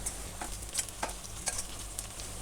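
Golden onions and slit green chilies frying in oil for chicken biryani, a soft steady sizzle with several light stirring scrapes at a close, quiet level and no talk.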